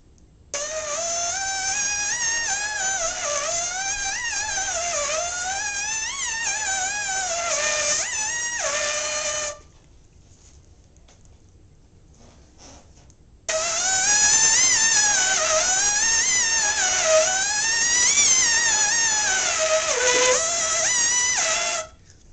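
Trumpet warm-up scales and slurs buzzed on a skeleton mouthpiece, a bright, steady tone rising and falling through repeated slurred patterns, played alone in two long phrases separated by a short pause.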